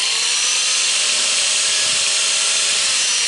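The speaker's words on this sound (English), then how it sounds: "So we're gonna take the old grinder" An angle grinder cuts into a stuck part from a sump pump kit in a basement pit, giving a steady, loud, high whine that holds throughout with no break.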